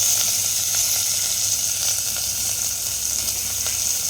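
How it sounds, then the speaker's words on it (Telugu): Curry leaves and turmeric sizzling in hot oil in a pan while cooking gongura rice, a steady close frying hiss with faint crackles throughout, no voices. "కరివేపాకు ఫ్రై అయ్యాక పసుపు వేసుకోవాలి."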